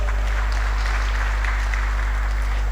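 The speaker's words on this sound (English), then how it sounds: "Please give him a round of applause." Audience applause fills a hall at a safeguarding grand finale, a steady dense clapping from a crowd lasting a few seconds with no talk over it.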